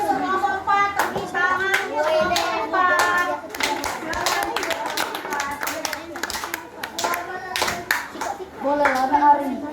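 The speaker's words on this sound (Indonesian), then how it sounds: "Tepuk tangan untuk kelompok 4." Children clap together for a group in a primary school classroom, a steady burst of many small hands mixed with young voices chattering throughout.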